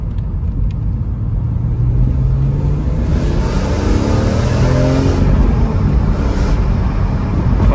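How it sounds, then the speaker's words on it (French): BMW M3 E46 with an untouched stock exhaust, engine revving steadily and loudly up and down with a rising and falling tone, close to the microphone and with some wind noise, no talk over it. "Donc la sonorité qu'on va entendre maintenant, c'est vraiment la sonorité qu'il y a sur toutes ces voitures-là en fait."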